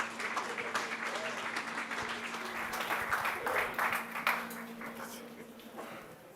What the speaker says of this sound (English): Round of applause for Priyavart.